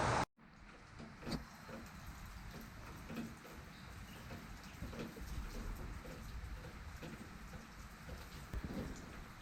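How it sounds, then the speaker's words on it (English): Steady rain keeps falling after a torrential summer downpour at an outdoor camp, a dense hiss of drops on surfaces with a few louder spatters and no voices. "The rain is subsiding a little bit after a torrential downpour."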